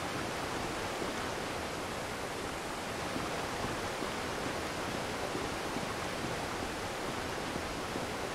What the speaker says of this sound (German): Oh, jetzt wird es wieder laut. Dieser reißende Fluss.